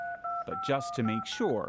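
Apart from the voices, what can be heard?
telephone number being dialed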